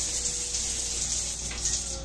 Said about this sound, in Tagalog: Yan yung shower niya. Malakas din naman.